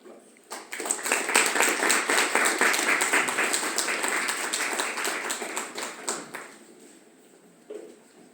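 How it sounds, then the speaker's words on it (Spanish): Applause from a conference audience in Spanish-speaking academic setting, rising quickly to a steady clatter of claps for several seconds and then tapering off, with scattered late claps near the end. "dejo en el uso de la palabra a nuestro invitado. Aplausos"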